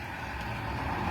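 A car passes by outside on a rainy day, a brief, fairly faint rolling road noise and tire hiss heard alone.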